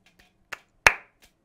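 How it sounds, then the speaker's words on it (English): A few soft hand claps ring out in a quiet room, one noticeably louder than the rest, with brief gaps between them. "Can't clap too loud."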